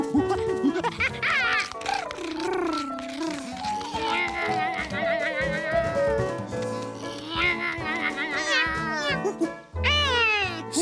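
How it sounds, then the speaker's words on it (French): A cartoon cat meows repeatedly in Georges le Petit Singe (Curious George), loud, close and drawn-out yowls with rising and falling pitch, mixed with other animated voices and background music. "les chats sautent toujours sur tout ce qui bouge"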